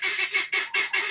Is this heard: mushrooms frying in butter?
no